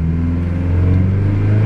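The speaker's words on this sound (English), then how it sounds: "you want to rev the engine up on the good car to about" The healthy car's engine is held at raised revs, around 3,000 RPM, during a jump-start, giving a steady, loud, droning hum with a strong low pitch and no voices.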